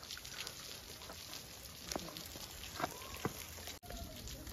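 Rainwater falling from above onto rock on a trek at Jivdhan Fort in Maharashtra: a steady, close patter and splash like rain on a surface, with a few louder drips and no voices.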